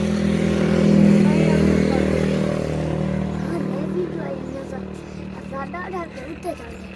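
Motorcycle engine running loud and near at a steady rumble, gradually fading as it moves away, with voices talking over it toward the end.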